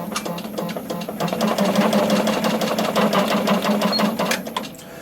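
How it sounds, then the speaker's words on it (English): An embroidery machine stitching 3D puffy foam on hats at a reduced speed, producing a fast, steady mechanical needle chatter and hum that swells in the middle and eases off toward the end. "I will actually slow the machine down just a little bit more, because we are sewing on hats"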